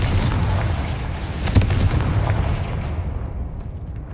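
Spell explosions in the Hogwarts Legacy video game: a loud, dense rumble of blasts with a sharper boom near the middle, then the roar thins and fades toward the end, with no speech.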